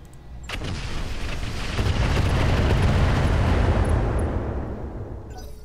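Incendiary weapons firing with heavy explosions in the Roguetech mech combat game, a dense rumbling roar that swells over several seconds and then eases, loud and close with no talk.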